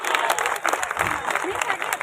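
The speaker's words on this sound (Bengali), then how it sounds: "হাততালি" An audience claps at a school reunion held at Kalyani Shikshayatan in 2023. The dense, steady applause fills the whole short stretch, and voices speak over it.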